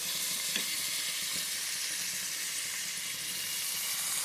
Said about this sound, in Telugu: చాలా బ్రౌన్ కలర్ రానియద్దు, లైట్గా ఫ్రై చేసుకోవాలని.